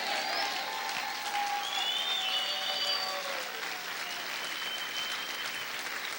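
A church congregation applauds through a worship service, a steady wash of clapping with faint voices and whistles rising above it, sustained throughout and fading slightly toward the end.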